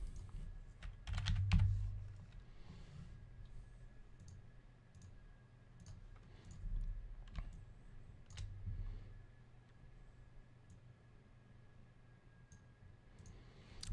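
Faint computer keyboard typing while setting up a play sound node in uScript, with scattered soft keystrokes and clicks over a low background rumble, close but quiet.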